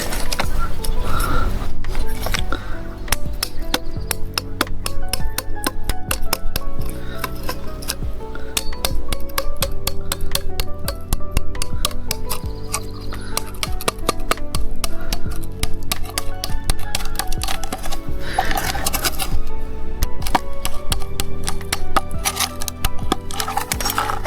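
Plastic waste pipes being cut during irrigation repair on a fig farm: continuous, rapid crunching, clicking and snapping for over twenty seconds, close and fairly loud.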